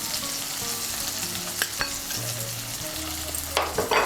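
Ginger paste frying in hot oil with cooked potato and sweet potato, a dense continuous sizzle with a few spatula scrapes and clinks, briefly louder near the end, with no voices.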